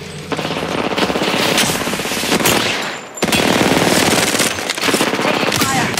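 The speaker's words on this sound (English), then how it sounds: "Taking fire." Rapid automatic gunfire from Apex Legends during a King's Canyon trios match, loud dense bursts running almost continuously, briefly dropping off near the middle before resuming at full intensity.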